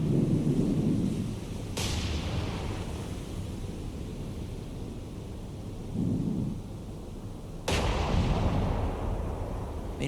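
Main battery guns firing from the battleship Ise in a naval combat game. Two heavy booms land about six seconds apart, each followed by a long, rolling rumble, over a steady low roar like wind and sea.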